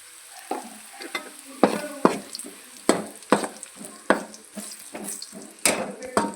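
A spoon scrapes through turmeric and spices frying in a pan, with regular stirring strokes about every half second over a soft, continuous sizzle, close by.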